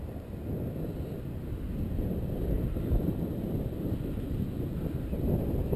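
Strong gusty wind ahead of a storm buffets the microphone outdoors at an RC flying field, a loud continuous low rumble and roar that swells and surges without letup.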